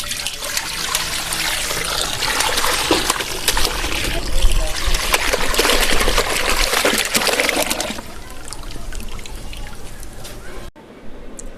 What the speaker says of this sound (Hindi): सबसे पहले हम कढ़ाई के अंदर फटा हुआ दूध डालेंगे।